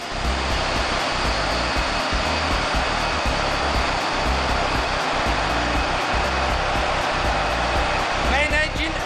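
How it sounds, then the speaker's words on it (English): Heavy fuel oil purifiers run in a ship's engine room, a dense, constant mechanical roar and whine with a steady pulsing throb, loud and unbroken throughout. "heavy fuel oil purifiers."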